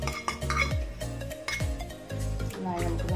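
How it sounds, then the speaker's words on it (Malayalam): Spoon stirring chicken soup with fried onions in a pot, soft scraping and clinking knocks in irregular rhythm, with music playing underneath. "നന്നായി നമുക്കൊന്ന് ഇളക്കാം."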